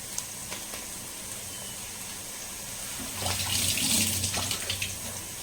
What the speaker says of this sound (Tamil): கொஞ்சமாக கருவேப்பிலை வாஷ் பண்ணி சேர்த்துட்டேன்